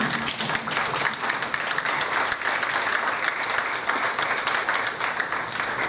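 A crowd gives a steady, dense round of applause at a high school senior class day for families and staff. The clapping is loud and continuous for about six seconds, with no pauses.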